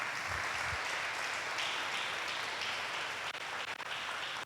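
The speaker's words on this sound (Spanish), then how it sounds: "Si tú lo crees, dale un fuerte aplauso a Dios." A church congregation applauds together in a steady, sustained wash of clapping that fills the room evenly, with no voices standing out above it.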